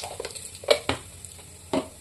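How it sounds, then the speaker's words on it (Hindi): Turmeric dropped into hot oil, a short sizzle punctuated by a few distinct scrapes and clinks of a spoon stirring in the pan, fairly close and with no voices. "किसी भी खाने का कलर अच्छा लाना है तो तेल में डाल दो हल्दी"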